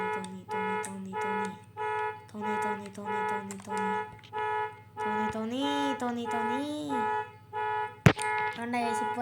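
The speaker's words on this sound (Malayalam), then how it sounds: "ഐസ്ക്രീം വണ്ടി വന്ന അതിനാണോ ഇത്രയും ഹോൺ അടിച്ചേ?" An ice cream van's horn plays a run of repeated, tuneful musical toots in short bursts, with a wavering melodic stretch in the middle and a sharp knock near the end.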